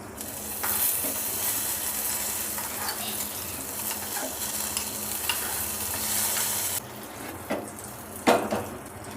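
Loud, steady sizzling of tempering spices frying in hot oil for aval payasam, with a few clinks of a utensil against the pan near the end.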